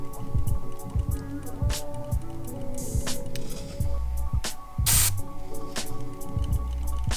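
An airbrush sprays thinned paint in short hissing bursts of speckles on a sneaker. The bursts come irregularly over a background hum and clicks, with no talking.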